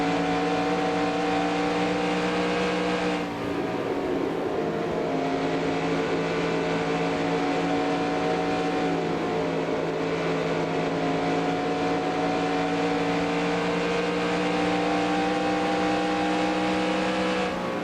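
Stock car engines at Darlington in the NASCAR Racing 2003 simulator give a loud, continuous drone that holds near-constant pitch, with a brief shift as another car runs alongside, and no voices.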